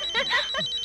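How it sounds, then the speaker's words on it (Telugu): A telephone rings in a short electronic trill, a brief bright burst lasting under a second, close and clear. "ఫోన్."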